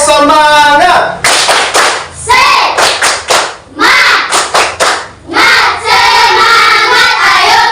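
Classroom children clap a rhythmic patterned clap together, loud and close, in bursts of quick beats separated by short pauses, with children's voices chanting along between claps.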